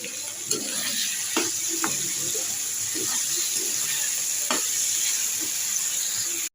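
Food sizzles steadily in a hot pan for several seconds, with occasional clinks of a utensil stirring or tapping, up close, before cutting off abruptly.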